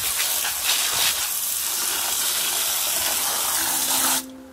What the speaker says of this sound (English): The water drains out.